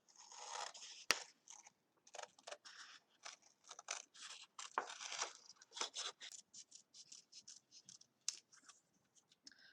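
Scissors snip through paper while cutting out art shapes, a quiet close series of crisp, irregular crunching cuts with short pauses between bursts.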